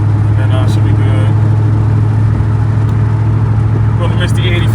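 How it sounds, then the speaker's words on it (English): A 2018-2020 Mustang GT idling, a steady low engine rumble that runs throughout, loud and close, with someone talking over it. "The car's still running."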